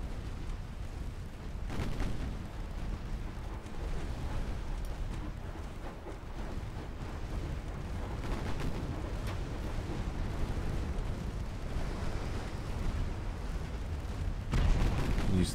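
Naval 2-inch deck guns fire in a video game sea battle, a continuous dense barrage of booming blasts and rumbling explosions with a brief pause near the start and a sharp burst near the end.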